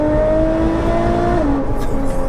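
Hybrid-turbo 820bhp Nissan GT-R engine, a loud steady drone with a sustained pitch that steps down partway through, close and alone without talk.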